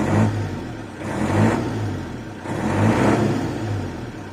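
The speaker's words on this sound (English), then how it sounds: "I'll give it a few revs for you." A Mercedes T2 709D Vario diesel engine revs up and eases off in three clear swells, a loud, close, steady mechanical roar that rises and falls roughly every second and a half with no talking.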